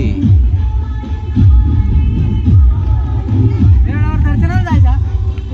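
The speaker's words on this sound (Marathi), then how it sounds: "आज गर्दी आहे." Busy crowd bustle at a Navratri festival in Harsul, a dense murmur of voices with rhythmic low thumps of festival music nearby and people talking close by.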